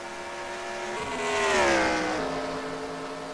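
Race cars accelerating hard out of a slow first-gear corner at Mosport, the engine notes climbing in pitch and swelling to a loud peak as they pass close by, then easing off.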